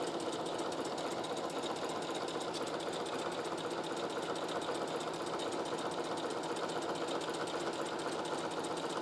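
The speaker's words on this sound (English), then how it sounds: "Sewing as fast as I can." A sewing machine stitching cosplay fabric, running fast and continuously in a dense, even mechanical whir with rapid needle ticking, close and steady for about nine seconds with no talking.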